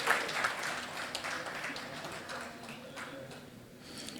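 Audience applause at a chartered accountants' annual conference, a dense, steady patter of many hands heard fairly faint from a distance, fading slightly toward the end.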